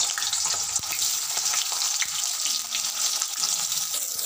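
Potatoes frying in hot oil in a wok on a gas stove give a steady, dense hiss and sizzle close by, continuous with faint crackles throughout and no talk.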